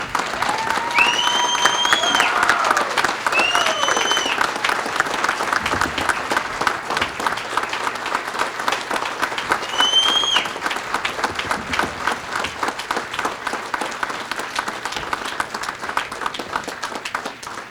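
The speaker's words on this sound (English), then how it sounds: "give Amy a big round of applause for being our hero" Sustained applause from a standing audience at a Seekonk Speedway awards banquet, a dense steady wash of many hands clapping that swells and continues for a long stretch, with a few voices rising through it.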